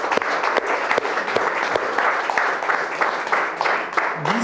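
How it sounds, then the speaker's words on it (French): An audience gives warm applause at a talk by artists opposing the Indian Act, with brisk scattered hand claps sounding together at a steady level and a brief murmur near the end. "une bonne main d'applaudissements pour Guy"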